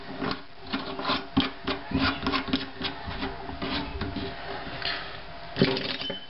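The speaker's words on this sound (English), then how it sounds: "And then screw the tops back on." Threaded sink faucet tops being screwed back on by hand during a sink repair, giving a run of close scraping, rubbing turns with small knocks and clicks in an uneven rhythm.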